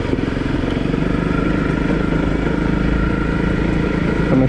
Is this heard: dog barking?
no